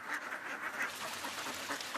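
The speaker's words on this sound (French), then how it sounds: "L'éleveur arrive avec ses canards dans les rizières, une fois la récolte terminée." Ducks quack in a rice paddy after the harvest, several overlapping calls in quick bursts, close and moderately loud, with no voices present.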